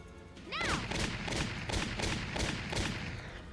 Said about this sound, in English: That's a lot of shots